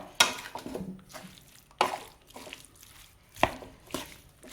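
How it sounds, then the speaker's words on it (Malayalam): A spoon stirs and mixes star fruit pickle in a pot, with a few distinct clinks and scrapes spaced irregularly, close by and fairly quiet, with soft mixing sounds between them. "നമുക്ക് ഇതെല്ലാം നല്ലവണ്ണം ഒന്ന് ഇളക്കി യോജിപ്പിക്കണം"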